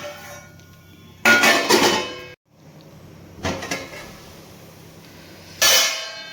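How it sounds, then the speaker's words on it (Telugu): A lid being put on a pot of boiling mint rice water, giving sharp metallic clangs in two bursts and then a third short clatter, close and loud, with no talk. "ఇప్పుడు మూత పెట్టేసుకొని దీన్నంతా బాగా మరగనివ్వాలి"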